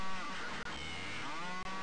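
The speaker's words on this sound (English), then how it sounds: "These cows are going mental." Cows mooing in The Elder Scrolls II: Daggerfall video game, a drawn-out, loud bovine moo with overlapping lowing calls, heard alone.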